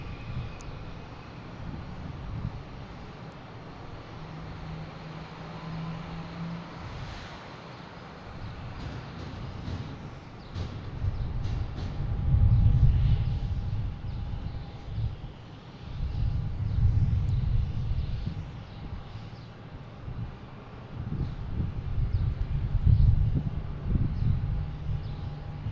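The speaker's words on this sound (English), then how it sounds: "we got JetBlue coming in from Nashville at A220" A JetBlue Airbus A220 on Flight 1006 from Nashville lands at Boston Logan, its engine roar building from a low rumble to a loud, surging drone that swells in waves and then holds near.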